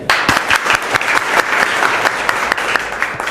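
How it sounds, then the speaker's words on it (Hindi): A room full of people claps steadily, a dense, even applause heard close and fairly loud. "ताली बजाइए।"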